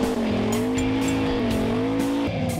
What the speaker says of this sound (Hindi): गाड़ी मस्त चल रही है